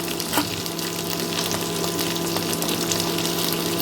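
Okra frying with onions in a pan over medium-to-low flame gives a steady, dense sizzle, continuous and close, with no talk over it.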